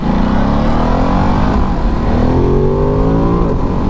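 A 2023 Ducati DesertX motorcycle engine running loud and close, its tone rising steadily as it accelerates through gears, with a continuous roar and wind noise.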